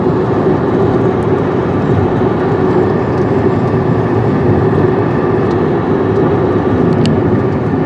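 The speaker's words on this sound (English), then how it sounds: "That's a lot of freight cars." Freight train near Amarillo rumbles past steadily at close range, a loud continuous roar of rolling cars without talk.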